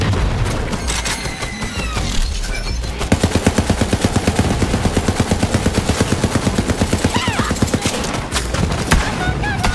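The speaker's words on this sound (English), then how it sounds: "Just keep shooting it." Rapid automatic gunfire from a Borderlands 3 shooter game, a steady fast burst of shots running several seconds after a brief stretch of mixed game noise, loud and close with explosions and effects layered in.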